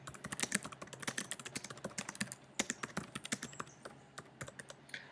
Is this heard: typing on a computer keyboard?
yes